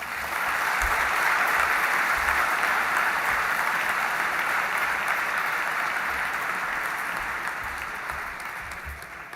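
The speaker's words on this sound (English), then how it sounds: "Let's give him another big round of applause." Sustained audience applause at an opening-evening event, a dense, even roar of many hands clapping that holds steady for nine seconds and fades slightly at the end, loud and close with no voices over it.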